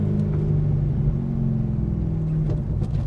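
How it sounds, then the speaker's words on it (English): A 2003 Corvette C5 Z06 engine blips and rumbles through rev-matched downshifts, a loud, close, steady low growl with pitch shifting up and down, no talking over it. "A couple of successful downshifts. Our rev matched and everything."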